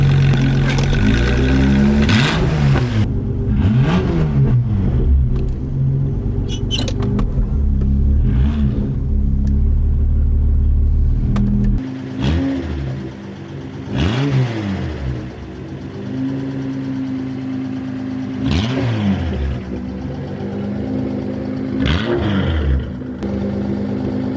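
A Datsun 280Z with an L28 straight-six and straight-pipe exhaust drives on the road, its loud raw engine note rising and falling through repeated revs and gear changes, with rumbling exhaust close by throughout.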